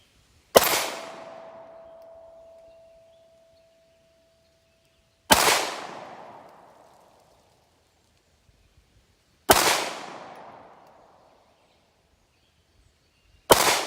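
Three loud, sharp 9mm pistol shots from a Glock 17 at an outdoor range, spaced about four seconds apart, each with a long echoing decay, and a fourth shot begins at the very end.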